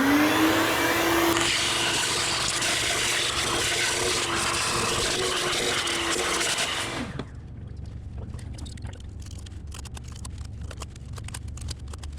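A shop vacuum runs loud and close for about seven seconds, cleaning crud around an engine oil filter and cooler housing gasket on a 5th generation Caravan, then cuts off, leaving scattered small clicks and rustles.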